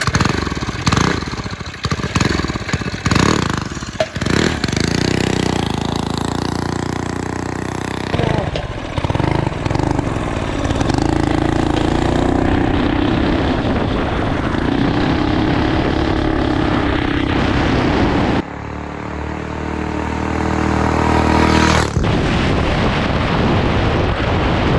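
Turbocharged mini bike engine on a top speed run, loud and close, with rough revving bursts that build into a sustained roaring drone punctuated by sudden shifts in pitch, and a voice briefly heard amid the noise.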